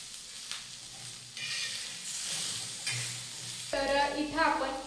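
Chopped tomatoes roast with onions in a pan, a mild sizzle broken by stirring and scraping strokes that grow louder and more crackly toward the end, close by with no voices.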